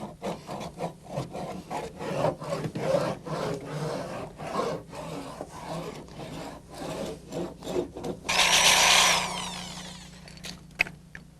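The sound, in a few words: sanding car body surface smooth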